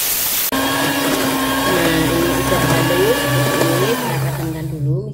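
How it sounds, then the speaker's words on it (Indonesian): An electric hand mixer beats cookie dough for Lebaran pastries. A sharp click switches it on, then a loud steady whine and grind continues with shifting pitch as the beaters work the bowl, and a voice speaks faintly underneath. "Selanjutnya ini di mixer sampai halus sekitar 2 menit ya."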